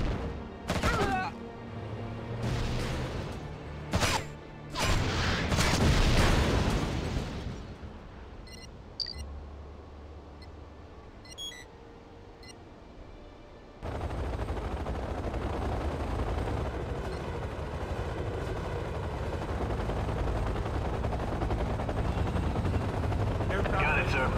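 Sustained battlefield gunfire from the real-time strategy game Act of War: Direct Action, dense bursts and volleys loud in the first half, then a steadier roar of combat noise, with in-game voice lines over it.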